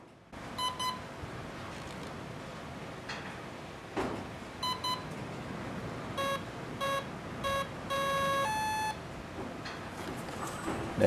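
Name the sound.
electronic speed controller beeping during calibration on model plane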